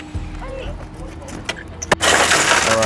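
Car window glass shattering under a center punch during vehicle extrication training, a sharp crack near 1.9 s followed by a loud, sustained crumbling crash of glass, with voices and outdoor noise beforehand.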